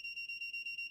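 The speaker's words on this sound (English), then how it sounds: "if I move it closer to the source, the alarm goes off" A Seesii combustible gas leak detector held near butane sounds its alarm as a steady, shrill electronic tone pulsing rapidly and evenly, close and loud, with no voices.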